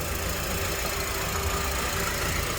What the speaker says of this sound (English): the best is to be between it when the transmission is in park, engine running, and the car is already warm